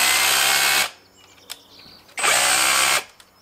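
Two loud bursts of an 18V cordless rotary hammer drilling in hammer-drill mode at top speed, each about a second long, separated by a brief pause with faint clicks and knocks.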